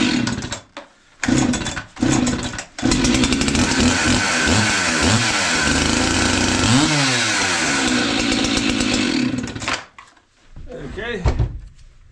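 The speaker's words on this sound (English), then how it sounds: "I always like to crank mine and just run them" Chainsaw engine cranked and started: a few short pulls, then a loud, close, buzzing run with some rises in revs before it cuts off, followed by quieter handling noises.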